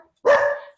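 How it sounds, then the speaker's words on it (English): A single dog bark rings out during an online meeting, one sharp, loud yelp close to the microphone that trails off quickly. "It wouldn't be a Zoom meeting if a dog wasn't barking"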